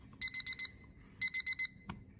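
A Seiko QHE121B alarm clock sounds its beep alarm: two bursts of four rapid, bright, high-pitched electronic beeps, clear and close, separated by a short pause, followed by a faint click.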